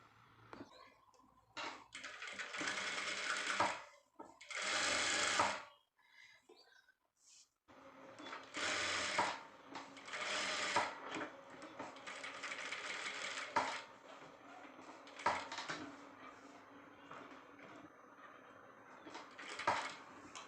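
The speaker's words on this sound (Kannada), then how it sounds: "ಈ ಎಡ್ಜಿಗೆ ಸ್ಟಿಚ್ ಹಾಕ್ಕೋಬೇಕು" A sewing machine runs in bursts while stitching the edge of a designer blouse, rapid whirring runs starting and stopping with brief quiet gaps, close and clear.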